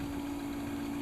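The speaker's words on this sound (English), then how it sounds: "The noise you're hearing there is from the motor." Motor of a vintage mid-century Airline record player's turntable, brought up slowly on a variac, gives a steady low hum with a constant mechanical buzz, close and unbroken.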